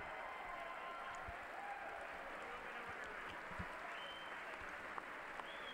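Sustained applause from a large audience at the State of the Union address, a dense steady roar of clapping for the whole stretch with no speech over it.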